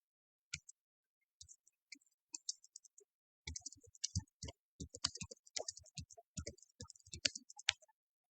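Sharp computer mouse clicks at a desk, a few sparse ones at first, then a denser run of quick clicks mixed with light keyboard-like tapping, close and fairly quiet.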